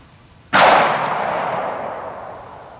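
A single sharp report from a Beretta 92X Performance pistol cracks out loud and close, then rings off in a long decaying echo across the open air.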